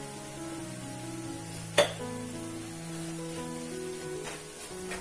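Fish curry masala made without coconut, with turmeric powder added, is stirred and sautéed in a pan: a soft, steady sizzle with a single sharp utensil clink, while a faint tonal hum sits underneath.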